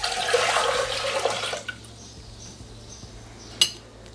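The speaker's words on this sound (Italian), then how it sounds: "Iniziamo la ricetta mettendo all'interno del boccale l'acqua." Cold water pours into the mixing bowl of a Thermomix kitchen appliance for about a second and a half, then stops, leaving a quiet room with one small clink near the end.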